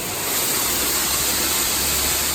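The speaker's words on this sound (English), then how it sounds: "There's even fantastic looking waterfall features that lead down to a river." A waterfall at a safari park pours down into a river, giving a loud, steady broadband roar that holds evenly throughout with no voices over it.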